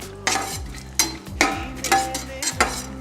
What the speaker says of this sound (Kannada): ಸ್ವಲ್ಪ ಗೀದಾಗ ಡ್ರೈ ಫ್ರೂಟ್ಸ್ ರೋಸ್ಟ್ ಮಾಡೋಣ. ಕಾಜು ಬಾದಾಮ್ ಹಾಕ್ಲಿಕತ್ತೀನಿ.